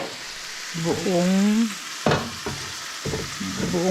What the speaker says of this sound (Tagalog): habang ginigisa ko siya dyan, iinit ko na to. May mantika na to.